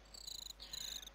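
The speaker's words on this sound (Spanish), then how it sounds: "Me contaron que aquí los grillos están haciendo una festejadita bastante importante." Crickets chirp in a video game, a fast, rhythmic high-pitched trill pulsing continuously, faint and steady with a brief pause midway.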